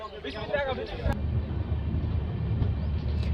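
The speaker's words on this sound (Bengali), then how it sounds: "ট্রেন এক লাখি জংশন থেকে বেরিয়ে যাচ্ছে" The Tebhaga Express (13162), with new LHB coaches, pulling out of Eklakhi junction: a steady, moderate rolling rumble heard from on board, after a brief bit of talking at the start.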